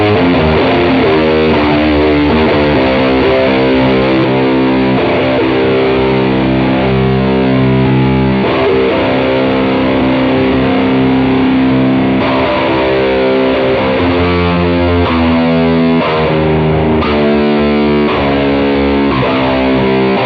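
Distorted electric guitar played through a MIDI pedalboard built around an HX Stomp XL, with dense sustained chords and riffs carrying effects, loud and continuous with no talking.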